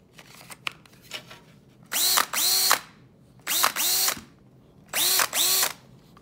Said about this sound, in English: There's a drill, let's put it in.